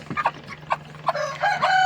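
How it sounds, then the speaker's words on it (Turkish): Close clucking and short calls from a rooster, building into a crow-like drawn-out cry at the end, over a low steady hum. "Bir tane horozumuz var."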